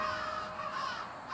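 A crow nearby gives a faint, drawn-out harsh caw that rises and falls, heard alone with no voices.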